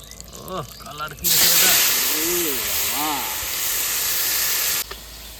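Meat goes into a hot pan and sets off a loud, sudden hissing sizzle that holds steady for a few seconds before cutting off, with people talking just before and over it.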